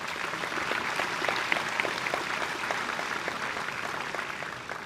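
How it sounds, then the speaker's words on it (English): An audience at a summer graduation ceremony applauds, a steady wash of clapping at moderate distance that holds evenly throughout. "Let's give our group 4 a round of applause"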